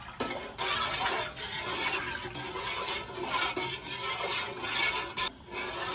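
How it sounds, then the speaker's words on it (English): A spoon stirring soap as it dissolves in a pot on the stove, with repeated scraping swishes and soft clinks against the pot, close and fairly quiet, no talking. "what we're going to have to do now is stir this until the soap has completely dissolved"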